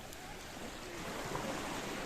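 Sea waves wash onto a sandy beach in a steady, close surf wash, with a soft continuous hiss and gentle swell building slightly louder toward the end.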